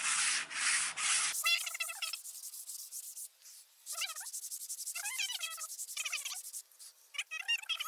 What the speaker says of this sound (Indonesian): ini kita amplas dulu. Amplas 400 ya